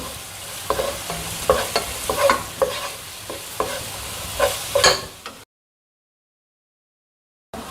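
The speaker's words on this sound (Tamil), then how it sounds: "இப்போ நான் இஞ்சி பூண்டு பேஸ்ட் சேர்க்குறேங்க. பச்சை வாசனை போகிற வரைக்கும் நம்ம வதக்கிக்கலாம்." Ginger garlic paste sautéed in a pan for a spicy potato gravy: busy spatula stirring and scraping over a steady sizzle for about five seconds, then silence.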